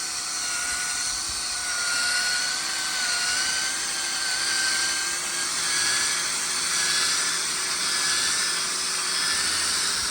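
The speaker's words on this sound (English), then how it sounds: "we're going to use the drill over the glass with a cutting compound underneath it." A power drill whines steadily for the whole stretch, a loud high-pitched drone with a gently wavering pitch as it polishes a foggy car headlamp lens with cutting compound, no talking.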